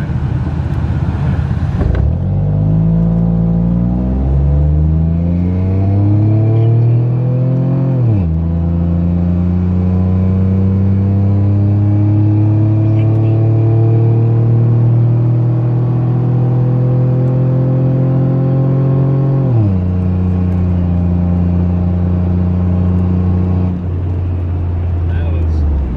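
A stock V6 Ford Mustang accelerates hard on a quarter-mile drag run, its loud engine climbing steadily through the revs with clear drops at each upshift, droning continuously and close by.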